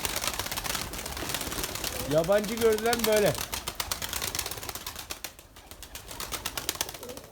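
Pigeons kept at home coo once in a short rolling call amid a busy background, with someone speaking in Turkish nearby; no clear wing flaps stand out.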